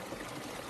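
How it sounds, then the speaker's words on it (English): Water from a stream in Zion National Park sweeping over and between rocks, a steady broadband rushing and trickling wash that stays even and continuous throughout, with no voices. "The water sweeping through the rocks and coming in over here."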